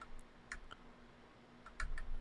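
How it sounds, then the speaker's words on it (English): Sparse keystrokes on a computer keyboard, a few quiet clicks in two small clusters, close and soft with no talking. "If I can remember how to use a keyboard."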